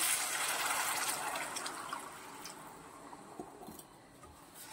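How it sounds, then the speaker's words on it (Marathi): Warm water pours and splashes into a pan of fried besan spice masala in a steady stream, loud at first and tapering off, with a few small clinks near the end. "आता मी कोमट पाणी घालत आहे"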